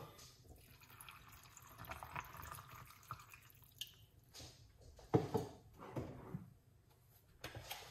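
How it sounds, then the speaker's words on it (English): Water poured into a container in a kitchen while honey and a teaspoon are at hand, heard as soft splashing and dripping with a brief louder splash midway, fairly close and quiet, with no talk. "So we're gonna put some water."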